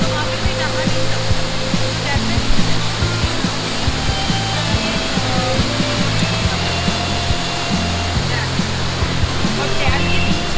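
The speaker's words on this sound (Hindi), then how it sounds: "अभी आप देख रहे हो किस लेवल पे पानी की फ्लो जा रही है।" Heavy river water rushing past a dam at Rishikesh, a loud, dense roar of flowing water that holds steady throughout, close and unbroken.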